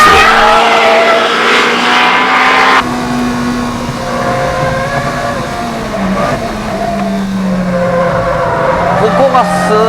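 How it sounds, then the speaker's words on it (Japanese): A Japanese muscle race car on the Ebisu East course accelerates at full throttle, its loud engine note climbing steadily through the gears, with a sudden drop around a shift and tire noise, while a voice talks over it. "He's going full throttle right from the start."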